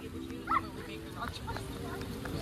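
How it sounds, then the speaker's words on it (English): A dog gives one short, sharp bark early on. After that, quiet background noise and some murmured talk continue. "He barks. I know."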